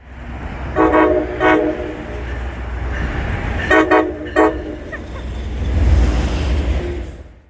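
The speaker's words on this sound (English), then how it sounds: "they are equipped with the Nathan K5LA air horn." A Nathan K5LA locomotive air horn on an MBTA MPI HSP-46 blows two pairs of short chord blasts over a steady rumble of a passing train.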